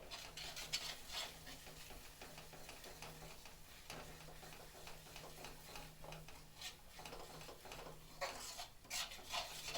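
Roasted masala of Kashmiri red chilli powder and roasted cumin powder being stirred in a pan for matar paneer, a steady scraping and clinking of spoon against metal with faint sizzling throughout, no talk.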